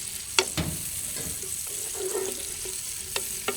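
Whole cinnamon, cardamom, cloves and a bay leaf fry in hot oil for a chemmeen biriyani, a soft steady sizzle punctuated by a few sharp clicks and pops as the spices hit and shift in the pan.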